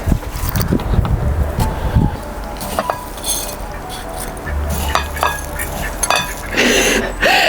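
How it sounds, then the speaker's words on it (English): A cold north wind buffets the microphone outdoors in low, uneven gusts, mixed with light clinks of ceramic bird feeders and a brief voice. "the wind is really Fresh. comes from the north."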